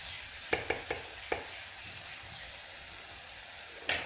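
Chili and coriander masala for a Kerala egg roast being stirred in a pan over low flame, a quiet sizzle with a cluster of quick spatula taps early on and another knock near the end.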